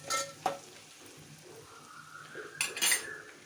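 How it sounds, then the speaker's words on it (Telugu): A spoon stirs mulakaya dosakaya curry in a pan, giving a few quiet clinks and scrapes over a faint sizzle, with brief metallic knocks near the start and end. "మళ్ళీ ఒకసారి కలిపి"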